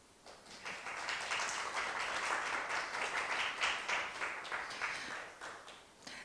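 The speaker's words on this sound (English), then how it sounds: "let's give us welcome and also the claps, big claps to Professor Lee and Klara to initiate this event." Audience applause at a Czechia–Hong Kong design dialogue event, dense clapping that swells after a quiet start, stays steady with slight rises and dips, then thins out toward the end.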